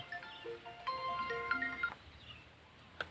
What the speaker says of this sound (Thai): เดี๋ยวมีคนโทรมา